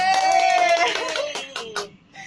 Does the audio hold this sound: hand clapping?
yes